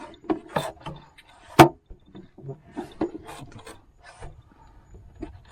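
A car glove box fitted with 3D-printed parts is opened and closed, giving a string of plastic clicks and knocks with one sharp snap, then fainter rattles.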